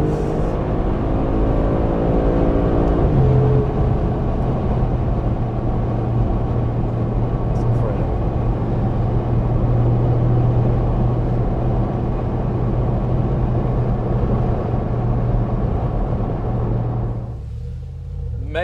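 An 800-horsepower twin-turbo Brabus engine roars and drones steadily at speed on the German Autobahn, loud low rumble with rising tone, heard from inside the vehicle, fading near the end.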